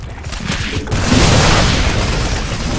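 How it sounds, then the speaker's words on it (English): In StarCraft 2, a drop pod slams down close by, a loud booming impact that swells into a sustained roar of rumble and crackle, heard in the mix of a busy battle. "Got another drop pod landing nearby."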